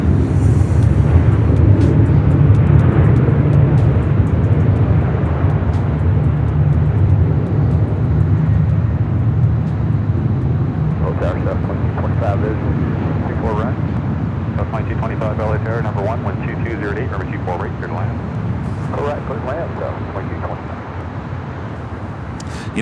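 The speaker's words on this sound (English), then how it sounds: "United Airlines flight 1636 heading to SFO, San Francisco, in the 737-800 with the Star Alliance and Evo Blue livery" A United Airlines Boeing 737-800 jet at Los Angeles International Airport gives a loud, sustained engine roar and rumble that slowly fades, with a voice talking over it.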